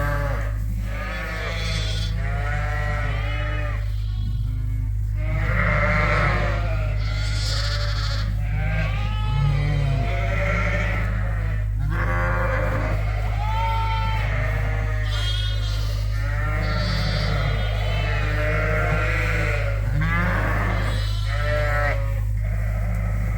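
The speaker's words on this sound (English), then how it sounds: "Oh, there's one of Angel's lambs" Suffolk ewe and Dorset lamb bleating on a sheep farm, with repeated loud, close bleats one after another over a constant low hum.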